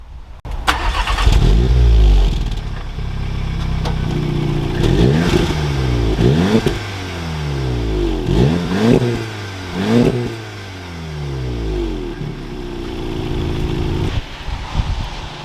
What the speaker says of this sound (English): So it's got the stock valved exhaust, and that was with the valves open